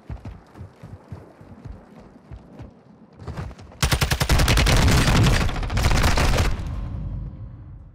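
Gunfire in Warzone 2: a few soft regular thumps, then a loud rapid burst of shots that runs for several seconds, a short gap, another burst, and fading rumble.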